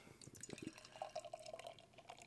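Extra light, hazy Hop Butcher For The World Double Pepperoni beer poured into a glass, giving a steady close-up trickling and dripping stream at moderate volume, with a few soft knocks early on.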